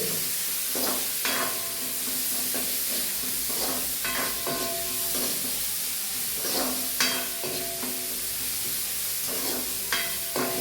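Chopped onions sautéing in a pan for a wheat adai batter, with a steady sizzle under repeated scraping stirs that sound close and fairly even.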